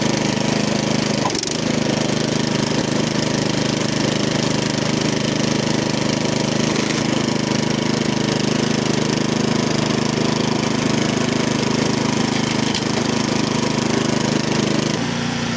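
A 208cc Powermore engine on an MTD snow blower runs steadily up close in a loud, continuous mechanical drone. A sharp pop stands out early and a few fainter irregular sputters follow through the run.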